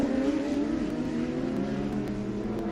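Race cars, a Lamborghini and a pack of Porsches, heading into turn 7 at Sebring during a historic Trans-Am and GT race; a steady, droning engine roar holds a loud, even pitch with no voices heard.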